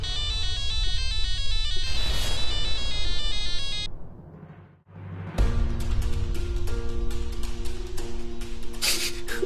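A phone rings on and on unanswered, a loud repeating electronic ringtone melody that fades briefly, then starts again with busy musical tones.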